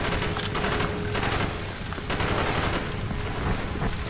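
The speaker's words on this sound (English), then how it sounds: "I really like this commando rifle." Steady rapid bursts of commando rifle fire from Call of Duty: Black Ops ring out loud and close for the whole stretch, with dense cracking shots and a booming low end.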